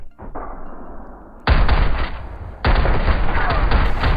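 Gunfire in PUBG Battlegrounds: two loud, sustained bursts of rapid automatic shots, each with a heavy low boom, break out after a quieter stretch of game sound.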